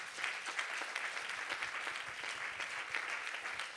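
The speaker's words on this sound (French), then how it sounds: "Qu'on peut applaudir." Steady applause from an audience at a children's book award ceremony, a continuous wash of many hands clapping at moderate distance for the whole stretch with no talk over it.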